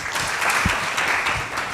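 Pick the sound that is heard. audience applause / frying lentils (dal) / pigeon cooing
audience applause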